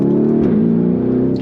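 A 2021 Lamborghini Urus engine revs loudly and close, a steady deep growl that rises briefly and holds, with no talk over it.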